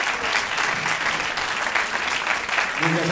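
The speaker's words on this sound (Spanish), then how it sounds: "Fuerte el aplauso entonces para recibir al coro Club Ciudad de Buenos Aires" Loud crowd applause welcomes the Club Ciudad de Buenos Aires choir at a choral gathering, a thick continuous clatter of many hands filling the room from start to finish.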